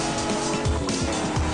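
Car tyres squealing and skidding in the PC racing game Street Legal, a short burst of engine drone with repeated scrubbing slides as the car keeps losing grip.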